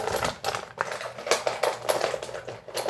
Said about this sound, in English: So apologize for the noise when I rummage around